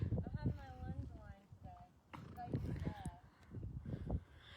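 Horses being lunged make soft clip-clopping hoofbeats that run steadily under almost constant close talk from the handler.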